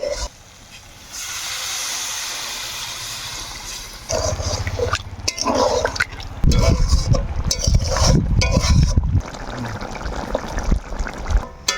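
Water goes into an oil-free chicken curry in the pot, starting as a soft hiss and building into louder, uneven bubbling and sputtering bursts.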